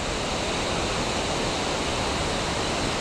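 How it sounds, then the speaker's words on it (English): Waterfall along the Nandikund trek in the Himalayan hills, a steady, loud and close roar of falling water that fills the whole stretch without pause or any voices. "A natural phenomenon of waterfall at every nook and corner of the trek."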